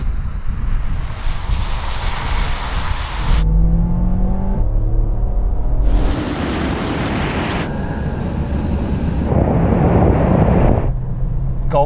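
VW Golf, Toyota Corolla and Honda Civic accelerating hard side by side in a drag race, loud in-car engine roar climbing through gears with abrupt breaks at shifts and heavy wind rush, no talk.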